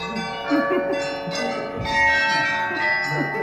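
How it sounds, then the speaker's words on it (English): A small bell hanging by the door in Ollivanders wand shop at Universal's Harry Potter attraction rings out once and its tone lingers and decays against a quiet room. "I want you to ring that bell, but just one time."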